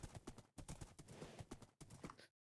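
Horse hooves clip-clopping in Minecraft, a quick run of sharp, evenly spaced clops close by and loud, broken by short pauses before cutting off abruptly.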